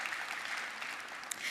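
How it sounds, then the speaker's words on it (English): Brief applause from a conference audience thanks the stage sponsor at an energy leaders forum, a faint, steady patter of clapping hands in a large hall. "So please, a round of applause for them for sponsoring this stage."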